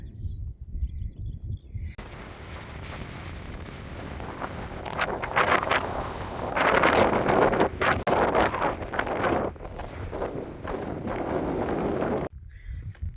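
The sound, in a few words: wind on a hilltop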